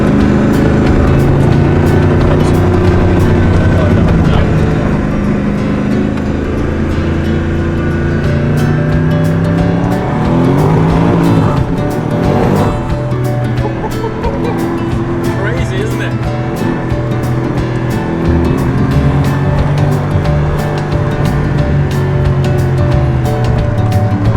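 The one-of-one Apollo N supercar's engine drones steadily and loudly while driving, with a shifting tone partway through and people talking over it throughout.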